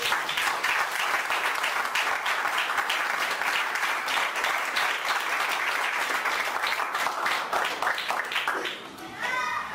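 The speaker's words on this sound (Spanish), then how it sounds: "Aplaude al Señor." Sustained applause from a church congregation fills the space with dense, steady clapping at close range, tapering slightly near the end as a few voices and cheers emerge.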